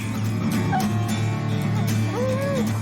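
Hunting dogs tree barking at a mountain lion in the mountains, their short, sharp, frantic yips and whimpering cries overlapping over a steady low background.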